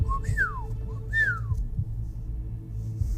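Two rising-then-falling whistled signal calls from a person, clear and fairly close over low rumbling background noise, followed by quiet.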